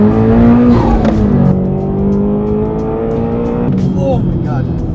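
A turbocharged Toyota GR86 running E85 accelerates hard, its engine note climbing through the revs and shifting, loud and close, with the rising drone dominating throughout.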